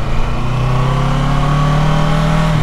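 A car engine pulls steadily and loudly after a gear change, its rising drone filling the cabin on a drive through a San Antonio residential neighborhood, with no talk over it.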